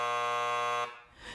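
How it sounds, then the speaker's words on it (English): A wanderer monitoring door alarm at a care facility gives a loud, harsh electronic buzz that holds steady for under a second, then cuts off abruptly. "an alarm will sound"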